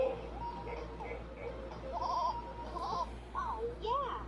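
Electronic goat bleats from a LeapFrog Touch and Learn ABC Nature Board toy: wavering, warbling cries rise and fall near the end over a busy bed of toy sounds.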